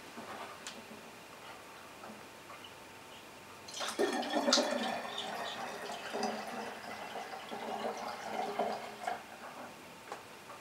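Grape juice sloshing inside a lidded jug as it is shaken to mix for homemade wine, a few seconds of quiet before a burst of liquid churning and rattling that keeps going steadily to the end.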